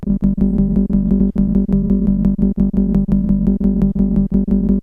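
2002 MicroKorg synthesizer playing an arpeggio with rapid, evenly spaced repeating notes over a sustained, buzzy tone, with filter cutoff shaping the sound. It stays loud and steady with no voices.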